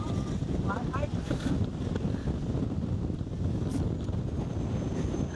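Strong gusty wind buffets the microphone near the beach at Songaksan Mountain on Jeju, a loud continuous roar with faint voices underneath.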